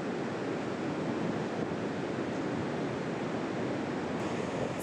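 Ocean surf rolling onto a long beach at Tofino, Canada, a continuous broad wash of breaking waves with some wind noise and no voices.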